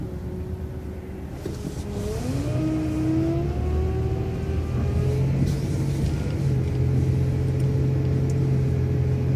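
A city transit bus on Route 7 South Main rumbles through a left turn at Elliott Drive, its engine droning steadily with a rising whine as it pulls away and builds speed, loud and close throughout.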